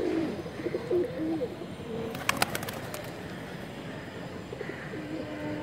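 Pigeons coo and call in a breeding loft, soft repeated throaty coos mixed with a few brief chirps and a short burst of clatter midway, all at moderate distance with steady room noise behind.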